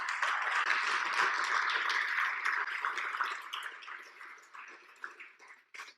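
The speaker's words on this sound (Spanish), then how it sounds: "Dáselo, si le va a dar un aplauso, dáselo fuerte." Applause from a church congregation, a dense, steady crackle of many clapping hands that holds strong at first, then thins and fades into scattered claps.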